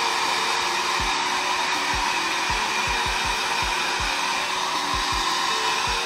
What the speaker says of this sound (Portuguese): Então a gente vai pegar um secador.